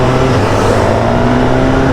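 A 2023 Suzuki Katana motorcycle engine runs up close with a loud, dense rumble that holds steady throughout.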